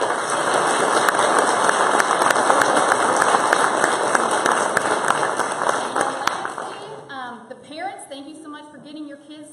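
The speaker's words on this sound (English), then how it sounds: "If everybody can give them a round of applause." A church congregation claps for the band of a children's Christmas program, dense applause for several seconds that fades out, then a few scattered sounds and voices.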